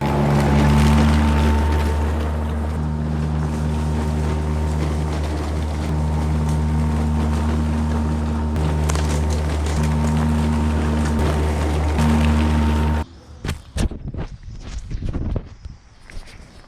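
A Toro lawn mower runs steadily at close range while mulching leaves, its loud engine drone continuing before it cuts off abruptly, leaving scattered rustling and clunks.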